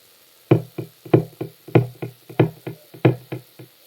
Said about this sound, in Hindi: कौन है? दरवाजे पे खटखटा रहा।